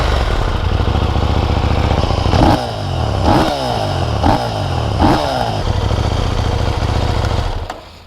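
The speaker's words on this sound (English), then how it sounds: "I think it sounds awesome even with the stock pipe, but we'll just start it up." A KTM 890 Duke R motorcycle on its stock exhaust idles, then is blipped through four quick, sharp revs in a row before settling and cutting off, heard up close with no talk.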